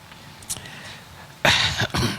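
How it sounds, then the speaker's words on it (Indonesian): A man coughs twice in quick succession, loud and close, partway through an Islamic sermon; a softer throat sound comes first. "maaf kalau diselang-seling dengan batuk."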